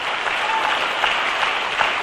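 An audience at a network marketing seminar applauds, a loud, even wash of many hands clapping, close and continuous for the whole stretch.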